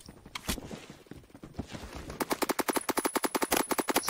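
SCAR PDW gunfire in the video game Phantom Forces: a few scattered shots, then a fast sustained burst of rapid automatic fire, fairly close and punchy.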